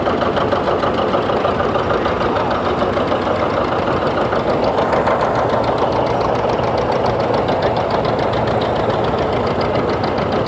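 A 1959 John Deere 630 tractor runs at a threshermen's show, its engine chugging loud and close in a steady, unbroken rhythm.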